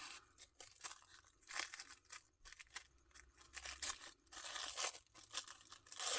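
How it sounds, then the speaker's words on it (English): Tissue paper being torn by hand for a collage, a series of sharp, crisp rips and crinkles in irregular bursts, close and fairly quiet, with no talk. "Tissue paper."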